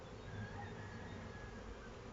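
A dense, steady buzz of many honeybees droning continuously at a hive, close and even, with no voices.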